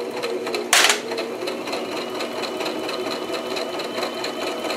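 Sewing machine running steadily as it stitches a fabric seam on a grow bag, a continuous close whir with a brief louder burst near the start and no talking.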